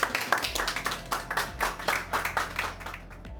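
Audience applause at a gathering about ending polio, heard as a scattered burst of individual claps with a steady murmur beneath, moderately loud and fading toward the end.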